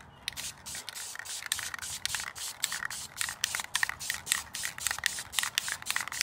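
Repeated short hissing bursts from a spray can as a coat of paint goes onto a Nissan 240SX rocker cover, close and steady with brief pauses between passes.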